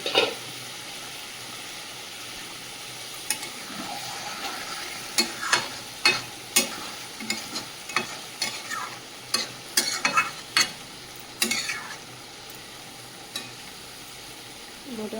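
A small amount of ginger, garlic and green chili paste fries in a pan beside cooking fish. A soft sizzle runs underneath repeated scraping and clattering strokes of a spatula stirring in uneven bursts.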